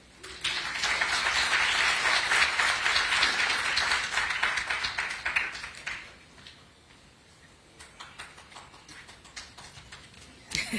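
Conference audience applauding, a dense, loud burst of clapping that carries steadily for about six seconds and then thins to scattered claps, tapering off toward the end.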